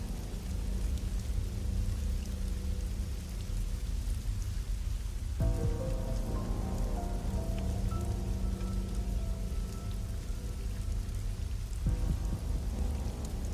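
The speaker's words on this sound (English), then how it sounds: "just hearing the rain by itself" Steady rain pours in the video game Wuthering Waves, a dense continuous hiss with a low rumble beneath and a few faint tonal game sounds drifting in partway, with no voices.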